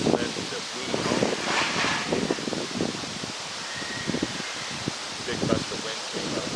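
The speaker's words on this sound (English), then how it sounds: "Big gust of wind came up, big rattle," A strong gust of wind rattling across open ranch land where wild horses graze, a steady loud rushing roar with rustling and buffeting throughout, and indistinct voices faintly beneath.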